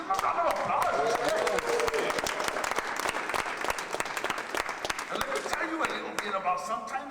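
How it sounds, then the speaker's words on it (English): An audience at a poetry event breaks into sustained clapping, a dense, even patter of many hands at moderate distance lasting the whole stretch, with a voice talking over it. "give him a round of applause"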